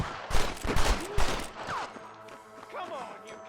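Sniper gunfire in the video game Red Dead Redemption, a rapid cluster of loud cracking shots up close, with shouting voices breaking in and fading battle noise afterward.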